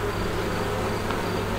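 Honey bees hum at a hive in a rural apiary, a dense, steady buzz that holds an even level throughout, near and continuous with no talking.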